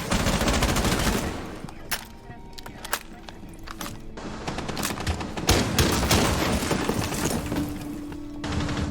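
Loud, sustained automatic gunfire with rapid bursts and sharp single shots during a competitive Xbox shooter gunfight, crackling and booming almost without pause.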